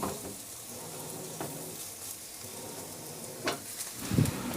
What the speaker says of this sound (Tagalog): At nagpainit na rin ako ng mantika at saka ko siya iprito.